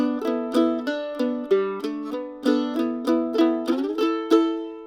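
A bright mandolin melody of quick plucked notes, some sliding up to an E through hammer-ons, plays in a steady lilting rhythm, close and unaccompanied.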